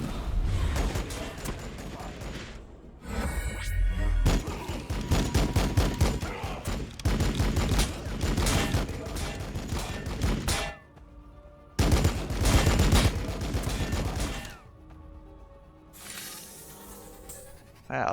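Repeated bursts of gunfire in the Warhammer Battlesector multiplayer battle, with a Necron Hexmark Destroyer in play: loud, dense volleys and rattling automatic fire with short gaps between salvos, overlaid on game effects.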